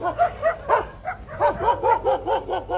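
Several dogs barking and yipping in quick, repeated bursts at a Gypsy vehicle, fairly close, with overlapping barks filling the whole stretch.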